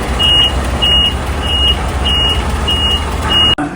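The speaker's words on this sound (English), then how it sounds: "Here comes the truck" A truck backs in on a residential street, its reversing alarm beeping six times in a steady rhythm over a loud, continuous low engine rumble, ending with a short thump.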